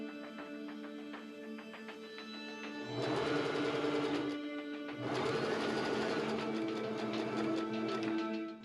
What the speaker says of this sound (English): I machine sew the next set of green strips.